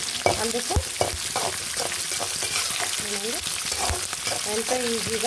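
Vegetables and dried red chillies fry in a hot pan with a steady close sizzle and occasional stirring scrapes, while a voice speaks briefly over the cooking.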